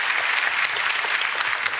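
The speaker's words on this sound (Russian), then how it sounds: "Аплодисменты Алексею." Steady, dense applause from a large TV game show studio audience fills the whole moment, even and unbroken.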